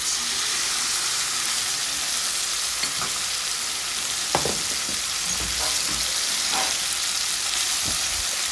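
Boiled long eggplant stir-fried in a pan with soybean paste, a steady loud sizzle with occasional scraping and stirring clatters throughout.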